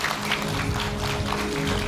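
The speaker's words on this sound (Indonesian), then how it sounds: "kita berikan tepuk tangan." Audience applause in a televised discussion studio, a dense, even wash of clapping from a crowd, steady and moderately loud throughout the short stretch.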